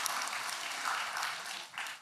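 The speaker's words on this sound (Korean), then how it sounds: "지금 뭔 말인지 알아먹고 박수 치는 거죠." A church congregation claps together in a steady, even wash of applause, fairly close and continuous, with no voice standing out above it.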